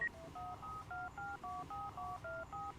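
A telephone keypad is dialed in a quiet room: a run of about nine clear, evenly paced two-tone beeps, each short and distinct with brief gaps between.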